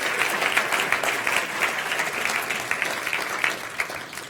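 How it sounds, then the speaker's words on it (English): Audience at the FameLab International science communication final at the Cheltenham Science Festival breaks into loud, sustained clapping, a thick unbroken roar of many hands with small surges, lasting the whole stretch. "Clap happily, please, one more time for our almost homegrown Marcia Godard."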